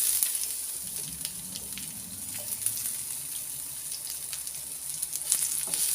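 Onions fry in hot oil with cumin seeds and a bay leaf, a steady hissing sizzle up close, with faint crackles and soft stirring, and no voices.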